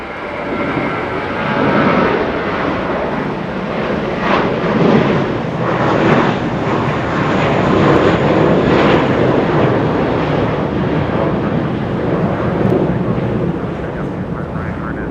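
A Boeing 777 airliner landing at Los Angeles International Airport gives off a broad, rumbling jet roar that swells and lingers for about fifteen seconds, fairly loud and steady from a moderate distance.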